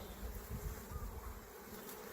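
Honeybees hum steadily in a dense, close buzzing swarm around an open hive, a continuous drone with no talking.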